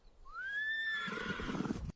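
An AI-generated horse gives a single loud, close whinny that rises and then trails off, followed by a quick run of hoof clip-clops, with no voices.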